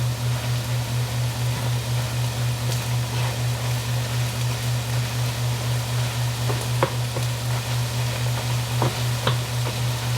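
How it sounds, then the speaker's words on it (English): Ingredients for chili sautéing in a pan, a steady soft sizzle over a constant low hum, with a few light clinks of a utensil stirring near the end. "I'll still do this, saute them up a bit. Let that cook down."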